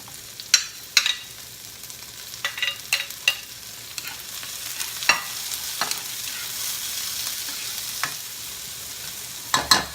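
Chopped tomato sizzles in a hot frying pan while being stirred, with scraping strokes that come in scattered bursts over a steady, moderate frying hiss.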